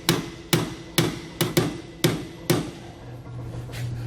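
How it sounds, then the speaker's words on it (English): A run of six ringing hammer strikes on a socket, punching a tight suspension bushing out of a 2021 Grand Design Imagine RV fitted with a Dexter heavy-duty kit. The blows come at a steady half-second rhythm, close and loud, then a low hum follows. "so expect to be hammering a little bit to get them out."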